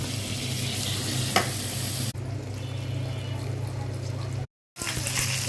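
Potatoes and tomatoes fry in a pan for a fish curry, a steady close sizzle with a brief stirring clatter, a sudden drop in intensity midway and a short silent gap.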